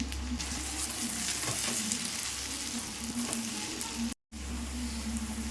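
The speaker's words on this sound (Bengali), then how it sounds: "তেলটায় আমি দিয়ে দেবো আলুটা একটু লাল করে ভেজে নেব।" Potato pieces fry in hot oil until browned, giving a steady close sizzle with a low hum underneath and a brief dropout near the end, no talking.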